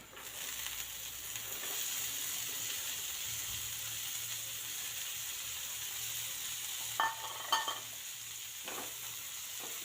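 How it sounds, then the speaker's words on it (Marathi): Finely chopped green beans sautéing with softened onion in a pan, a steady soft sizzle and hiss throughout with a couple of brief stirring knocks near the end. "आता ही फरसबी आपण छान परतून घेऊयात"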